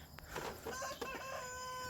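Meat-bird roosters crow and cluck excitedly at night in a backyard garden, several birds calling over one another in a close, continuous burst with a drawn-out crow rising near the end.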